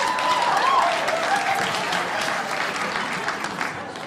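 Loud, dense applause fills a comedy club audience at a stand-up show, sustained from start to finish and tapering only slightly toward the end.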